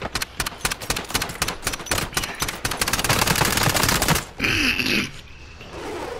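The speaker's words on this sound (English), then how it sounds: "Oh, I love shooting bodies at the end." Rapid automatic fire from an MP7 in a video game, a long loud stream of closely spaced shots that cuts off abruptly, followed by a brief electronic tone and quieter game noise.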